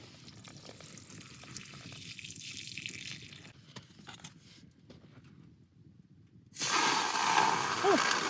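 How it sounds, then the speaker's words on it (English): Water is poured into a pot of snow inside a heated tent in a winter forest, giving a soft hiss that breaks into a louder, steady rushing splash for the last couple of seconds. "just add water."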